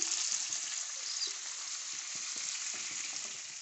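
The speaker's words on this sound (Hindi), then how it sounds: "बड़ी अच्छी तरह से ये फ्राई हो चुका है चिकन" Chicken pieces frying in hot oil in a pan, a steady close sizzle and crackle running throughout with no talking.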